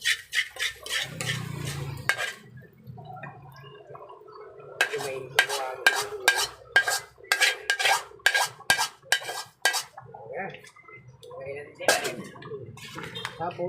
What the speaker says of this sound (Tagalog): tapos haluin